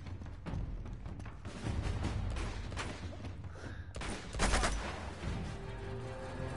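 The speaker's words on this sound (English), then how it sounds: "Why am I still hearing gunfire?" In Uncharted 2, bursts of gunfire crackle repeatedly, some in rapid volleys and others as single sharp cracks, amid a noisy, echoing background.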